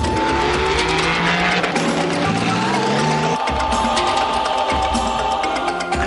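Porsche race cars roar past at full throttle, tires squealing and skidding through corners, a loud, continuous blend of engine howl and rubber screech.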